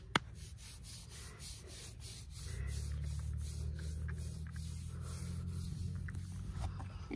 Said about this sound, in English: I'll rub your belly with my hand that doesn't have a blister.